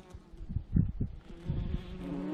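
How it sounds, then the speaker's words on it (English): Bees buzzing close by around flowers on a mountain in Kahurangi, New Zealand, a few brief loud passes followed by a steadier hum, fairly quiet overall. "Bees are loving it,"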